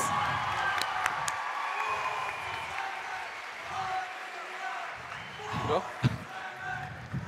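A sports-hall audience claps for a basketball captain and head coach at a VEF Rīga team event, steady moderate applause carrying on beneath an announcer's voice, with a few sharp knocks near the end.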